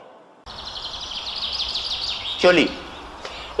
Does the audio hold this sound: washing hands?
no